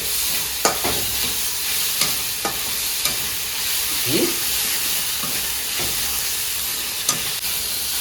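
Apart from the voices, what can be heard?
duck curry base with tomatoes frying in oil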